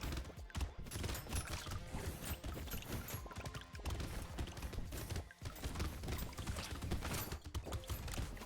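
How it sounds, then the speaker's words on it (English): Bots in the video game Brotato fire on a boss in a dense, continuous barrage of rapid shots and impacts layered with busy game effects, loud throughout with a brief dip near the middle. "I'm going to pull them across the boss, and then you can see that they are now shooting it"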